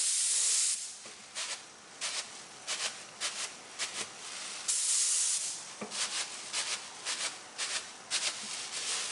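Spray paint hisses out of a can onto a wadded plastic stencil in short, quiet bursts, with two longer sprays and a string of quick puffs between them.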